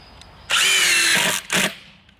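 Power drill driving screws into the back of a wooden garden bed: a sustained close whir for about a second, a short pause, then a second brief burst.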